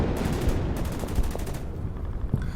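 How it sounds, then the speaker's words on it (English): Loud, rapid bursts of gunfire fired at a T-34 tank in the Winter War strategy game Order of Battle, crackling in quick repeated volleys over a dense rumble. "Let's take a shot at the T-34."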